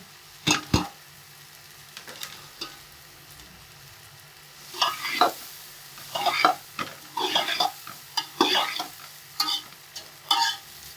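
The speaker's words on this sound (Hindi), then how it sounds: "तो गाजरें भी अच्छे से फ्राई हो गई हैं" Carrots frying in a pan for chicken mayo spring roll filling: a quiet background sizzle broken by scraping, clattering stirs with a spoon against the pan, sparse at first, then frequent bursts toward the end.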